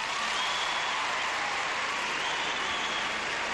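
Crowd applause fills the arena for a men's gymnastics routine at the 1998 Goodwill Games mixed pairs competition, a steady, dense wash of clapping that holds evenly throughout without pause.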